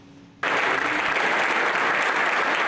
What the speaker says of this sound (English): Applause and a standing ovation